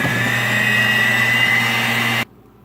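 Electric mixer whirring steadily as it beats ingredients for a cloudy pizza until creamy, a loud close motor drone that cuts off abruptly near the end.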